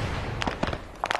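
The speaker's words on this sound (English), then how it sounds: "Oh, who just shot a rocket past my face?" Rocket launcher fire in a multiplayer shooter game, a few sharp bursty blasts whooshing close by in quick succession, fairly quiet.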